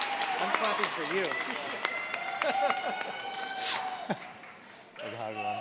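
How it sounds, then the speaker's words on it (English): Audience applause at a dental school white coat ceremony, a soft, continuous clatter of clapping running underneath a voice announcing names. "I'm clapping for you."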